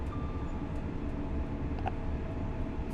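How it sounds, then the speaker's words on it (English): A passing train in Train Sim World 4, with an LNER Azuma Class 801 setting nearby: a steady low rumble of rolling wheels and wagons runs the whole time, fairly close, with a faint brief tone and clicks above it. "there's another train"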